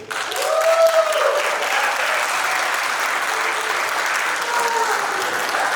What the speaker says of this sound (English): Everyone, round of applause for Shane!